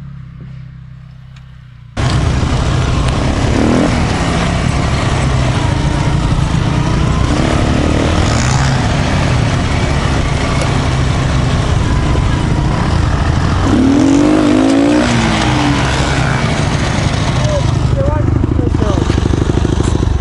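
A Kayo 180 quad ATV engine fires up abruptly after a short quiet start and keeps running loud and close with a rough, revving drone, while people shout and talk over it.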